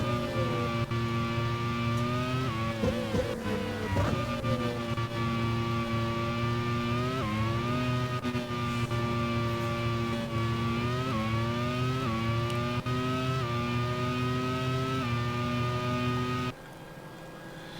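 Race cars at the Barber Grand Prix roar past with a loud, continuous engine drone whose pitch climbs and drops through repeated gear shifts and accelerations, several engines layered together.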